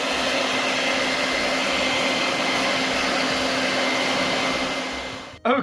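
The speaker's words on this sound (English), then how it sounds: "the sticker came off like a dream once I'd heated it with the hairdryer" A hairdryer runs steadily to heat a sticker for removal, a loud, constant whirring blow with a steady hum that holds for several seconds before cutting off abruptly, followed by a brief rustle.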